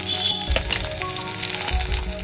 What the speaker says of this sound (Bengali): কড়াই গরম হয়ে গেছে, এবার কড়াইতে তেল দিয়ে দুটো তেজপাতা, পেঁয়াজ,